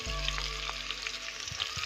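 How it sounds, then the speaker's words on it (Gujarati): Garlic tempering in hot oil gives a close, lively sizzle with small crackles and pops. It lasts under two seconds and no voices are heard. "જો વઘાર થાય છે લહણ નો"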